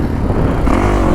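A rider's voice imitates a fast motorcycle engine at a dirt track, a short continuous buzzing rev held close to the microphone.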